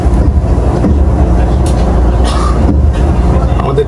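A Haramain high-speed train starts to move, heard from inside as a loud steady low rumble with faint clicks and hiss, voices murmuring faintly.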